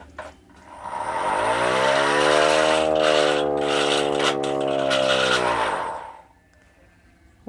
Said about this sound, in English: Old air raid siren, which I think still works.